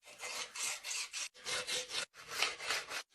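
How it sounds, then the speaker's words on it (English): Wood is shaped by hand in a jungle setting with a rasping, sawing-like scrape that comes in four long rhythmic bursts of rubbing strokes, close and steady, separated by brief pauses. "First thing I gotta do, shape the wood."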